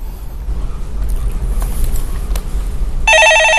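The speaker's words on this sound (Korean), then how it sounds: "예, 전화 받아보겠습니다." On a Korean stock market phone-in show, a telephone starts ringing with a clear electronic warble after a stretch of low rumbling studio noise, loud and near at the very end.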